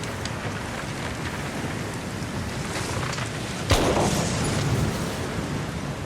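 A wet black powder gun is fired once outdoors during heavy rain: one sharp, close boom cuts through the steady hiss of rainfall midway, followed by a brief rumbling tail, with no talking.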